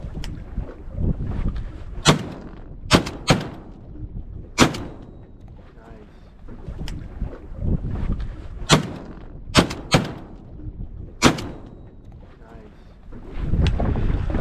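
Shotgun blasts fired at sea ducks such as scoters during a hunt on Chesapeake Bay, Maryland: about eight sharp, loud reports come in quick pairs and groups over steady wind and boat noise.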